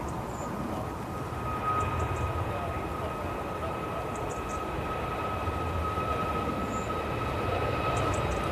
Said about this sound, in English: we've got the Icelandair then, 737 MAX 9. On the way to Keflavik